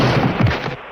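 Cannons fired at sea with bags of pepper as shot: a single dense, rumbling blast-like burst with a short crackling tail that fades out, heard alone.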